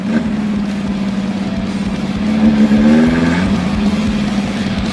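An old car that had not run in a year or two: its engine drones loudly and steadily, then rises in pitch midway as it moves under power, with the hum continuing close throughout.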